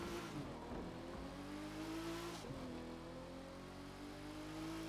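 Car engines in a racing video game, a steady droning roar with gear-shift dips and revs continuing throughout, fairly quiet and alone without talk.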